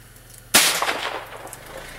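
A single sharp shot from a 300 AAC Blackout rifle at an outdoor range cracks out close and loud, then its echo rings and fades for over a second.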